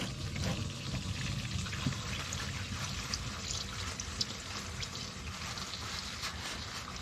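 Used motor oil drains from a car engine in a continuous soft pour, a faint even trickle with a low background rumble and no talking.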